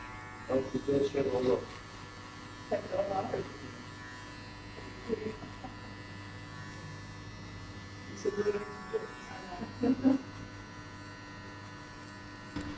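Electric hair clippers buzz steadily and close while cutting a burst fade with a number 4 guard, and someone talks intermittently over the hum.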